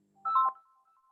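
A single brief electronic telephone ringtone chirp sounds close and clear, then fades into near silence.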